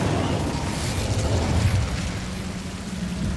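Incendio fire spell cast in Hogwarts Legacy, a dense, roaring burst of flame with a booming low rumble that holds steady and loud throughout.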